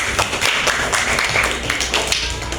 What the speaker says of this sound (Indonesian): Oh, kasih dulu tepuk tangan buat orang ini